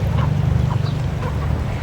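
Ducks on a free-range poultry farm with chickens and a fishpond quack repeatedly, a close, loud, overlapping chorus of nasal calls over a steady low background hum.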